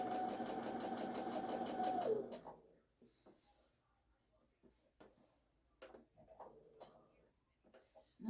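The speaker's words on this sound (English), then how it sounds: "going to start at the top of my fabric and sew down to the line and then pivot and start sewing on the line" A sewing machine fitted with an open toe foot runs steadily for about two seconds as it stitches down fabric, then stops, leaving faint handling clicks and rustles.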